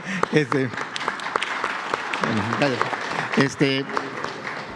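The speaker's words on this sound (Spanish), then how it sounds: "Un aplauso." Clapping from a group at a Mexican presidential press conference rattles along while voices talk over it, the applause staying steady beneath the speech.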